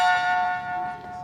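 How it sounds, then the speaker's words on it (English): A ceremonial gong at a meal aboard a starship rings out once, its bright metallic tone sustained and slowly decaying over a faint low background, with no talking. "What are we doing here with this gong?"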